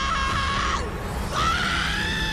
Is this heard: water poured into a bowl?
no